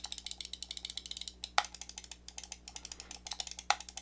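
Rapid series of sharp clicks from the buttons of a Razer Naga V2 Pro MMO gaming mouse, steady quick taps at close range with a couple of louder snaps, no talking.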